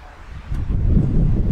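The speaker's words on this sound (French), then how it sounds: "Non, il y a le vent." Wind gusts outdoors on a campsite trip in Croatia, rumbling low against the microphone and building to a steady, loud roar with some rustling and no talk.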